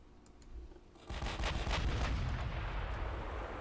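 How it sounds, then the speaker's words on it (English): A battleship's main guns fire a volley in the naval game Ultimate Admiral: Dreadnoughts, a faint crackle of shots giving way to a loud, sustained rumbling roar of gunfire and impacts. "Here we have another volley of ours coming in."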